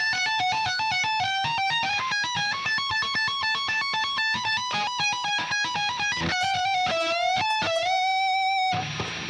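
Electric guitar playing a solo slowly, a steady run of clean, sustained single notes stepping up and down in even rhythm, ending with bent, held notes, loud and alone with no talk.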